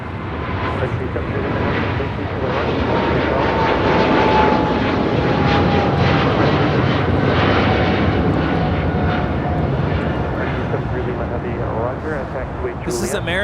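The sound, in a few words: American Airlines Boeing 777-300ER taking off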